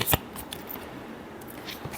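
Tarot cards being shuffled by hand, a few quick soft riffles and flicks in close succession, brief and fairly quiet.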